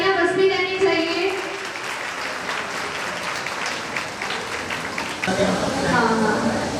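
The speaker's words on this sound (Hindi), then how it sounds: "प्लीज तालियां बजती रहनी चाहिए।" Sustained applause from a seminar audience at a skin and hair care workshop in Gyanpur, a dense steady clatter of many hands filling the room, with a few voices heard faintly underneath.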